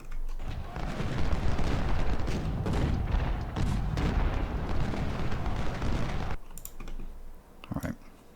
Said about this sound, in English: And let's confuse these cannons.